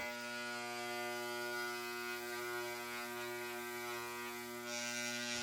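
Power sander working across the cast iron top of a SawStop table saw, a steady electric motor whine with a constant hum that continues without pause, close and alone.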